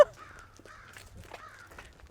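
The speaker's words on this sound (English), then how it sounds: "And then there's the crows." Crows caw in a few harsh, separate calls spread over two seconds, moderately near and fairly clear against a quiet background, with no one talking.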